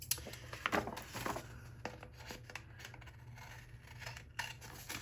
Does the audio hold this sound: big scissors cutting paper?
yes